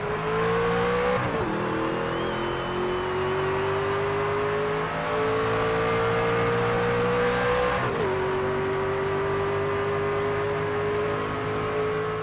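NASCAR 25 race truck on a Truck Series qualifying lap at Talladega in the video game. A loud, continuous engine drone climbs steadily and drops at two gear shifts, with no talk.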